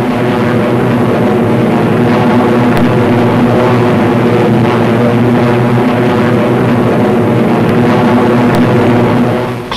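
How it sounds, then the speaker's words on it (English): Thunderbolt fighter planes climbing in formation over the Channel toward hostile skies, heard as a loud, steady, unbroken piston-engine drone that holds at full strength throughout. "The Thunderbolts climb steadily over the channel into hostile skies."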